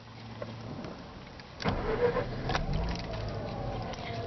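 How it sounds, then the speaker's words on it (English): A 2006 Mazda RX-8 powers on from inside the cabin, a quiet hum that turns into a firmer mechanical surge of starting and electrical whirring partway through, heard alone without talk. "So we'll just power on the car."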